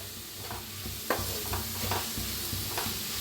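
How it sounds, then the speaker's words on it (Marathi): Onion roasts in a pan, giving a soft, steady sizzle with a few gentle stirring scrapes and light taps spaced through, close but fairly quiet and without voices. "आता ह्याच्यातच कांदा भाजून घ्यायचा आहे।"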